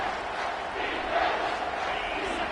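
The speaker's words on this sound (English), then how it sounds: "This crowd knows they have to bring it in big moments" Dense, steady roar of a large football stadium crowd at a college game in Wisconsin, sustained and loud with a slight swell in the middle, no clear individual voices.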